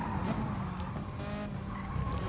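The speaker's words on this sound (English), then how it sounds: "I guess just listen to the sounds of the car" Race car skidding hard through a corner in Gran Turismo Sport, a steady tire squeal layered over a loud, continuous engine drone for about two seconds, close and with no voices.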